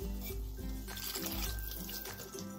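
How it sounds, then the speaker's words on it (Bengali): Water pours steadily into a cooking pan holding lentils, a continuous close splashing trickle with faint rhythmic clinks underneath and no talking. "এবার এর মধ্যে দিয়ে দেবো জল"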